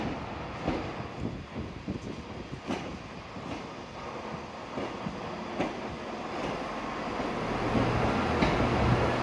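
A three-coach ScotRail train at a platform in Edinburgh Waverley station, giving a steady run of rhythmic wheel clacks over a low rumble that swells louder toward the end.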